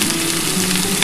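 Mixed vegetables with drumstick stalks, dusted with turmeric, frying in a pan for a vegetarian chorchori: a loud, steady, close sizzle for a brief moment.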